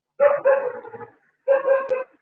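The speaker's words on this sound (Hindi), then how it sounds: "वो डॉगी गली तो में बेचारा भौंक रहा है ना" A dog in the street gives two short bursts of barking, each a quick cluster of close, fairly loud woofs, with a clear pause between them.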